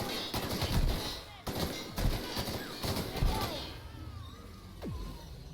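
Several sharp gunshots ring out in quick succession in The Outer Worlds video game, each with a heavy thump, followed by quieter ambient game sounds.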